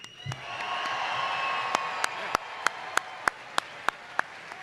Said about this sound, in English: I need you to cheer for them in 3, 2, 1.